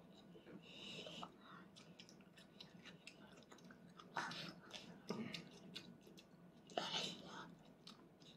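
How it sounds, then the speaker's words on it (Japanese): A small child of about three chews boiled chicken at a meal, with soft, close mouth sounds and faint crunching, and quiet talk and whispering around it. "もぐもぐ。"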